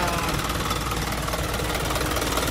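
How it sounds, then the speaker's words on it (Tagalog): Isuzu NPR wingvan truck with a 4HL1 turbo diesel engine running steadily, a dense, even drone with a fine rapid knock and no pauses, close and fairly loud. "ito yung turbo, napaka-smooth ng andar"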